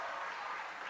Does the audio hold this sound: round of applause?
yes